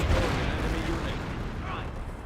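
Artillery fire in Company of Heroes, a continuous low rumbling barrage of dull booms and blasts lasting the whole short stretch, with a commentator's voice talking over it.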